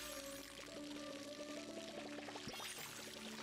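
Water pours from a bucket onto crops in the Palia video game, a soft continuous splashing stream with light bubbly gurgles running for a few seconds at low volume.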